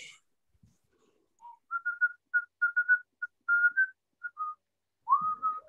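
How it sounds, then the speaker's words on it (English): A person whistles a tune alone, a run of short clear notes and a few held ones in a steady melodic rhythm, close by. "That's an interesting song to be a whistling away"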